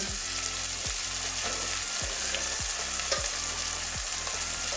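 Salt-soaked brinjal (eggplant) slices fry in hot oil alongside bitter gourd, giving a dense steady sizzle, close and even, with a rhythmic spatula scraping roughly once a second and no voices.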